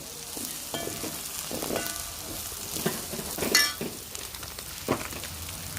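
Curry leaves dropped into hot oil for a homemade Kerala fish pickle crackle and sizzle steadily, with a few sharper pops and a faint clink of a utensil against the pan.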